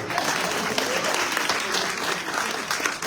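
A crowd at a gathering gives dense, continuous applause, loud and evenly sustained from many hands across the whole stretch.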